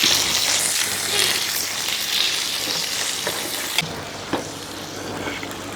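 Pomfret fish frying in oil in a pan, a steady dense sizzle and crackle throughout, with a couple of small pops near the end and no talking.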